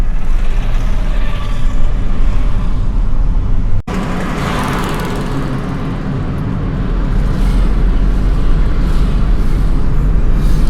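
Heavy road traffic on the Mumbai highway near roadworks, a loud continuous roar of engines and tyres close by, with one brief dropout partway through.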